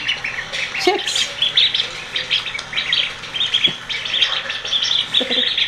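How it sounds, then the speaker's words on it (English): A bunch of ducks and other birds calling outdoors, a busy mix of chirps, squawks and quacks overlapping at moderate distance, with occasional low thumps beneath. "Bunch of ducks."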